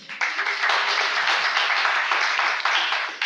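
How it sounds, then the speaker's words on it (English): A crowd at an advertising agency launch celebrating entrepreneurship breaks into a dense, steady round of applause that starts abruptly and carries on for about three seconds, loud and unbroken, with no voices. "That deserves a round of applause."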